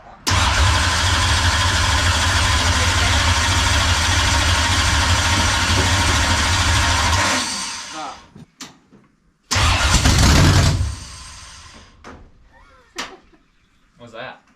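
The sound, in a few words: dirt late model race car engine being cranked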